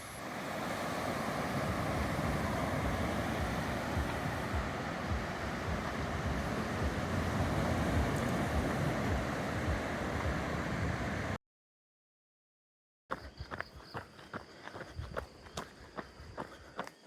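Surf at Napkin Beach near El Nido washes in a steady broadband roar for about eleven seconds. After a short dropout, a quieter stretch follows with crunchy footstep-like taps and wind noise.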